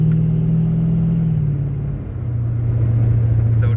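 A quiet LS-swapped Chevrolet El Camino idles as a low, steady exhaust drone with a slight dip in pitch midway, near and alone.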